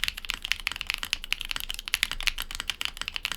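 Fast, continuous typing on a Luminkey80 mechanical keyboard, dense clacky keystrokes up close with no voices.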